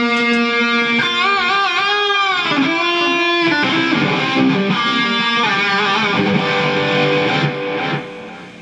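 Electric guitar played through a Blackstar amp on its distortion channel, pushed further by a DigiTech RP1000 pedal: heavily overdriven bent notes and sustained chords ring out alone, loud and saturated, then cut off near the end.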